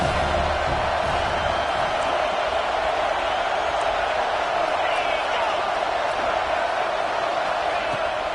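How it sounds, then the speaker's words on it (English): A college football stadium crowd roars in a dense, continuous wash of noise while a commentator talks over it throughout. "This crowd bringing the energy and noise early."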